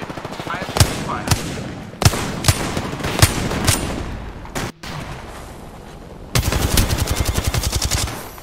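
Video game gunfire in Apex Legends: loud single shots spaced irregularly, a brief pause, then a rapid automatic burst near the end.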